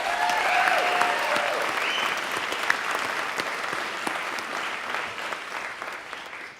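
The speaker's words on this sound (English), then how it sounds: "Can we give her a round of applause?" Audience applause for an event organizer at a SustainPHL sustainability gathering in Philadelphia: a sustained, even patter of many hands clapping at moderate distance, fairly steady throughout.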